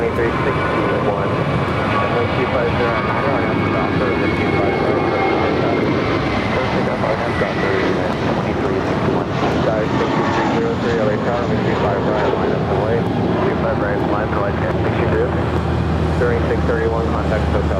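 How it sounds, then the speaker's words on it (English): Spirit Airlines passenger jet departing LAX airport, loud continuous engine roar building and shifting as it climbs out, with talk heard over the noise. "That was Spirit Airlines Flight 631 heading to Atlanta"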